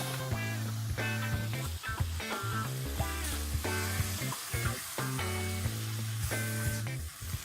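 Sliced mushrooms and tomatoes frying in a pan with salt and pepper for a spaghetti and meatballs sauce, a steady sizzle broken by stirring scrapes, with music playing over it.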